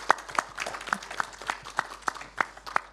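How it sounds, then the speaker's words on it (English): Applause from a small group of people, with sharp claps at a steady rhythm of roughly three per second standing out over a softer, scattered patter, fairly close and moderate in loudness. "How about a round of applause?"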